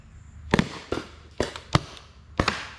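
Paintball gun fired at a tree at an adventure park, five sharp cracks in an uneven rhythm, fairly close and loud against a low background hum, with no talking.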